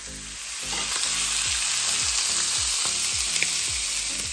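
Sausage meat browning in a pan for a ragù Bolognese, pressed down as it cooks, giving a steady close sizzle with repeated low thuds and scrapes of a utensil against the pan, and no talking.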